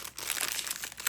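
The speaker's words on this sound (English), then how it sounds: "your canvas is gonna come wrapped in this plastic bag" A plastic bag wrapping a diamond art canvas crinkles and rustles continuously for about a second, close and fairly soft, with no voices.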